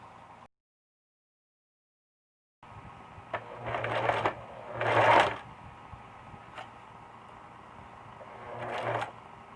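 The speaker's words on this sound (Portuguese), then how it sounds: "E agora eu vou costurar." A sewing machine stitches an invisible zipper with a special presser foot, running in short bursts of rapid mechanical whirring up close, separated by pauses with a steady background hum.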